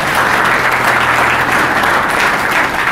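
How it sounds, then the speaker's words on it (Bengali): A room of coaching-class students applauds for student Shamim Akhtar Mondal, a dense, steady burst of clapping that stays loud and even for the whole moment. "শামীম যে হাততালি দাও"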